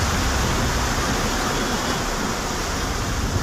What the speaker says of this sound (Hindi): मूर्ति के चारों ओर गंगा की लहरें तांडव मचाती हुई बह रही हैं।